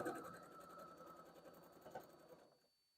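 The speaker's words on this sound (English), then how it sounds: "So I'll just sew up the regular 1/4 inch at this point." A sewing machine stitches a standard quarter-inch quilting seam in one fast, even run of rapid needle chatter, close and clear, then stops abruptly near the end.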